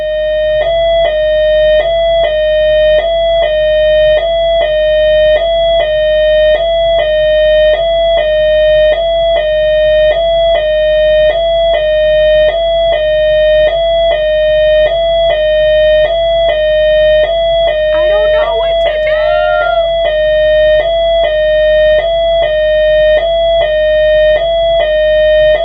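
A building alarm tripped by accident beeps in a steady rapid electronic pattern, loud and continuous throughout, with a brief faint sound passing underneath near the end.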